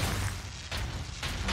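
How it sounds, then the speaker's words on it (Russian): An explosion in a Warhammer 40,000 Space Marine shooter game: a deep rumbling boom with repeated low bursts and crackling debris, loud and sustained, with no talk over it. "Вот это взрыв."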